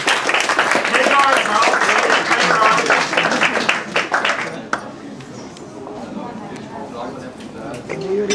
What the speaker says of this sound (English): A round of applause for Mal, please.